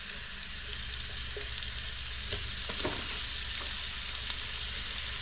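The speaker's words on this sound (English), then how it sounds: "when that pan is hot enough, just gonna flash fry this beef" Beef strips flash fry in a very hot pan for a stroganoff, giving a steady close sizzle and spatter with a few stirring scrapes and no voices.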